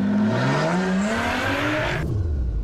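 A 350-horsepower sports car engine revs hard, pitch climbing steadily through the gear, then cuts off abruptly as the revs fall away.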